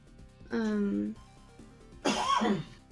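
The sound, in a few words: a man coughing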